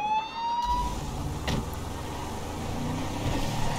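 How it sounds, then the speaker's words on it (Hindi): A police car siren wails loudly in GTA 5 for under a second before cutting off, leaving a steady rumble of a car engine and road noise. "उसका सायरन बंद कर देना चाहिए"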